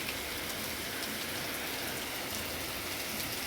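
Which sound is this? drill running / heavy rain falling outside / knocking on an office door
heavy rain falling outside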